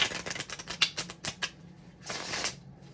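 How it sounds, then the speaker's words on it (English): Tarot deck being shuffled by hand, a quick run of crisp papery riffles and taps lasting a few seconds, close and clear with no talking. "Just one more quick shuffle."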